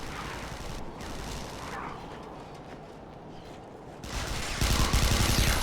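Gunfire in the sci-fi shooter Interstellar Marines, close rapid bursts of shots rattling over steady game ambience, growing louder toward the end.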